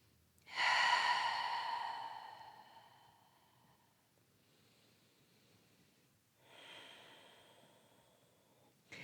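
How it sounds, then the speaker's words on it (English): Up close, a person holding a yoga plank takes a long, loud breath that trails off, pauses quietly, then lets out a second, softer breath, with no speech. "Take a couple more breaths."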